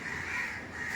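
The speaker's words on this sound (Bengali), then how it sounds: "কাকগুলো দেখেন, এর ডাকাটাকি শুনতে পাচ্ছেন?" A crowd of crows caws together around an injured crow that was hurt by an electric shock, a continuous overlapping harsh chorus heard at a moderate distance with no talk.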